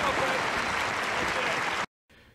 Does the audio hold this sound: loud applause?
yes